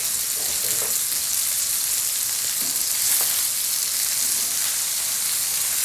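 A steak sizzles loudly in a pan, a dense and steady frying hiss that holds close and constant for several seconds, with a few faint stirring or utensil touches underneath.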